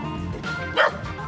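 A frightened chained dog in Da Nang, Vietnam, lets out one short, sharp bark amid steady street background noise.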